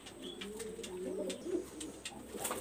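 Pigeon cooing from a female Pirispuri pigeon, soft repeated low coos with a few brief higher chirps, fairly close and steady under a light background hiss, no talking.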